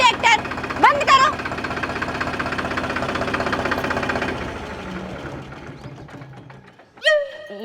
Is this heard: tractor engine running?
yes